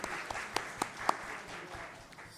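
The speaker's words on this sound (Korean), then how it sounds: "우리 환영의 박수 하겠습니다." A Korean church congregation in Chile gives a short round of welcoming applause to a visiting member, faint scattered claps in a room with a few sharper individual claps standing out, then fading.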